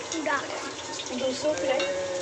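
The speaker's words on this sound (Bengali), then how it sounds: "এখানে কি ভাজা হচ্ছে এখানে এখন? চিকেন পকোড়া হচ্ছে।" Chicken pakora deep frying at a street food stall, a busy bubbling sizzle mixed with background chatter and voices.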